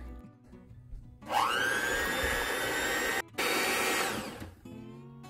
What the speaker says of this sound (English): I'm actually going to get my electric mixer